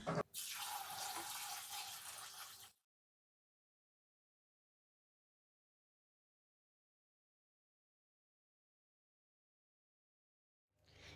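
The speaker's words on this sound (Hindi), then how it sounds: "इसी तरह खुले पानी में हम इसको 3 से 4 दफ़ा धो लेंगे।" Kashmiri nik saag greens are washed in open water, giving close splashing and running-water sounds for nearly three seconds before the sound cuts to silence.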